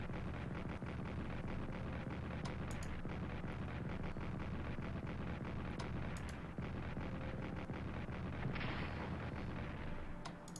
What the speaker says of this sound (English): Let's just pump all the artillery shots into that one.